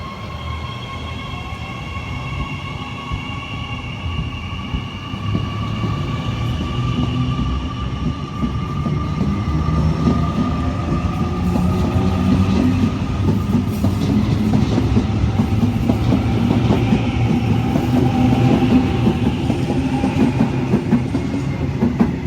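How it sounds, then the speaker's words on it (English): A diesel passenger train departs a station platform at Broadmeadow, Newcastle, rolling with rhythmic clickety-clack and rumbling wheels, building gradually louder as it gathers speed, with faint squealing tones overhead. "This train is now departing platform 2."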